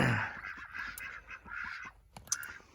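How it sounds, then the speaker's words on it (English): Ducks give a run of nasal honks and calls, fairly close and overlapping, with a louder sharp honk near the end. "Ooh, ducks. Look at them ducks."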